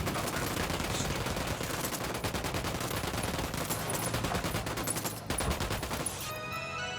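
A sustained, rapid volley of automatic rifle fire from a firefight in the video game Ghost Recon Wildlands, continuous and dense for about six seconds before cutting off into a quieter tail.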